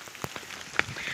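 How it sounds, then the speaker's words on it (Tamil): Steady rain pours down at a hill site in Theertham Malai, a soft wash of falling water with a few sharper drops and splashes standing out, continuous and close, with no talking. "ஃபுல்லாக மழை வர ஆரம்பிச்சிருச்சு"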